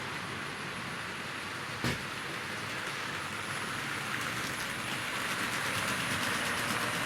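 A long Tri-ang Super 4 model freight train with salt and aggregate wagons running on a layout, a steady close rolling rumble and rattle with a single sharp click near the start.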